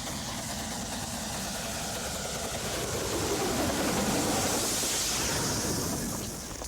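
Restored British express steam locomotive from 1988, a loud continuous rumbling churn of a working engine that swells slightly midway and then eases, with no voices.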